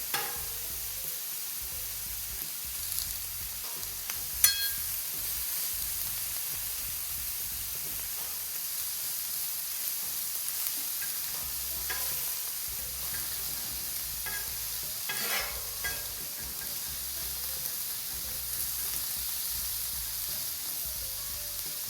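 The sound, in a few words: meat sizzling on a flat top griddle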